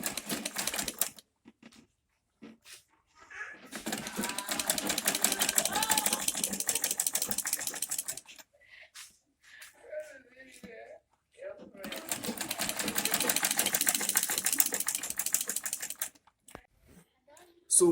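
Sewing machine stitching a zip onto a blouse runs in two long, loud, even bursts of rapid mechanical chatter, separated by pauses with brief speech.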